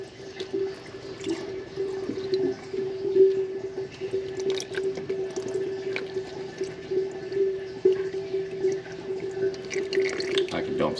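Hot engine oil drains from a car's drain plug into a pan, a steady liquid trickle with dripping and splashing that runs the full length, close by, under a persistent low hum.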